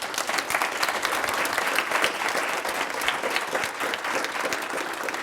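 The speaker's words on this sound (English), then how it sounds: "Let's give Daniel a big, huge round of applause" A conference audience at a Startup Grind startup talk claps continuously, a dense even wash of applause from many hands that holds steady throughout without any speech over it.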